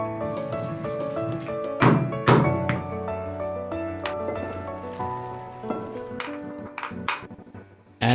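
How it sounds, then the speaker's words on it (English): Spices crushed in a stone mortar, with sharp clinking and thudding pestle strikes at irregular intervals over a ringing, resonant tone, close and fairly loud. "Crush the spices in a stone mortar, extract the aroma, and wonderful fragrances will be created."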